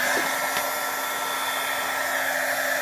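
A heat gun blows a constant, loud whooshing hum while heat embossing a Halloween card, running steadily with no talk over it.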